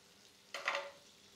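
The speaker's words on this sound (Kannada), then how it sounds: "ಈಗ ಪ್ಯಾನ್ ಬಿಸಿಯಾಗಿದೆ, ಒಂದು 2ರಿಂದ 3 ಸ್ಪೂನ್ ಬಟ್ರ್ ಹಾಕೋಣ" Butter dropped into a hot pan gives one brief, faint sizzle that flares and fades within a fraction of a second in an otherwise quiet kitchen.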